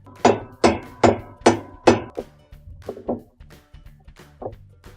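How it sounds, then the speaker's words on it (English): A hammer strikes a washer tub nut on a Whirlpool washing machine, five sharp loud blows followed by a run of softer, quicker taps, alone with no talk. "with our hammer, we're going to tighten it up"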